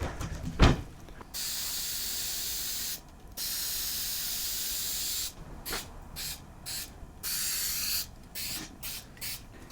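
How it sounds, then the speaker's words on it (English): Spray adhesive hisses onto cushion batting during furniture cushion rebuilding, several steady bursts of close, loud spraying separated by short pauses. "And any glue overspray will be fine."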